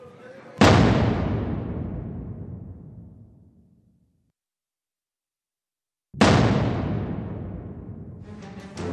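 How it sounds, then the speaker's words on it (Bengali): Two massive explosions boom out, each a sudden loud blast followed by a long rumbling decay lasting several seconds, separated by a stretch of near silence, in a missile strike scene during the Iran conflict. "यहाँ पे आप देख सकते हैं बहुत जोरदार धमाके हो रहे हैं"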